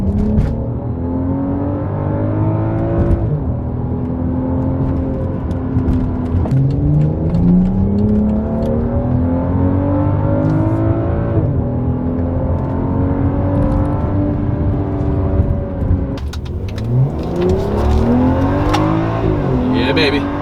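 Tuned BMW 535i F10 accelerating on a drive, with engine tones rising through repeated gear changes, heard from inside the car, steady and fairly loud, with a voice speaking over it.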